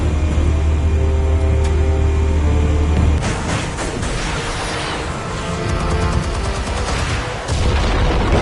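Explosives detonating in the Batman Telltale video game: a low rumbling blast that gives way to a crackling, debris-laden roar and rolling aftershocks, loud and sustained with no talking.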